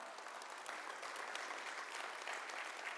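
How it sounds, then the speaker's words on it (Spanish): A church congregation applauds for three seconds, a dense, even wash of many hands clapping with no clear individual claps and no talk over it. "Todos los que están aplaudiendo ya han estado en ese curso y han sido de bendición."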